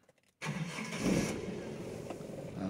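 A 2001 Toyota Kijang long-chassis engine cranks and fires after a brief quiet, then settles into a steady, close idle with a slight surge right after starting.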